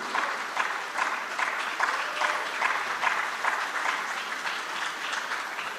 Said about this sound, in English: please join me in applauding MTN Foundation.